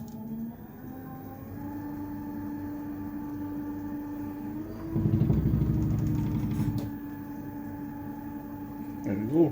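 A wood lathe spins an out-of-balance bowl blank at slow speed with a steady low motor hum. Partway through, a rougher, louder rumbling swells, and a few faint knocks follow.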